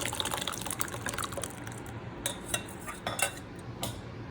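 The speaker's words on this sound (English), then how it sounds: "After a quick boil, we are ready to transfer into our serving bowl." Thick daal poured from a cooking pot into a serving bowl after a quick boil, with soft liquid splashing and drips mixed with clinks of utensils against cookware, close and steady, no talking.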